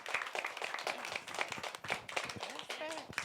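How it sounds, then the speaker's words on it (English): Audience clapping at a local podcasters' discussion event, a brief patter of applause mixed with voices talking over it throughout. "Let's give a round of applause for Michael,"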